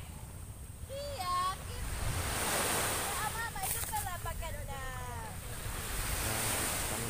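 Ocean surf rolling onto a beach at Pantai Bunga, a steady broad wash of waves under wind, with several people talking over it throughout.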